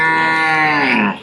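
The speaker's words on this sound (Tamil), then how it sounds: "இந்த காராம்பசு காளை" A young Kangayam Karampasu bull calf at a cattle market gives one loud, close, sustained moo that sags in pitch near its end, with no talk over it.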